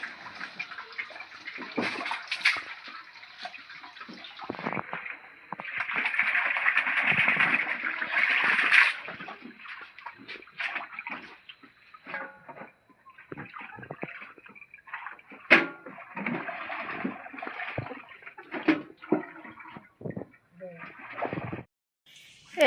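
Fresh coriander leaves are washed in water, with intermittent splashing, sloshing and dripping up close. People talk over it, and a bird calls faintly in the background.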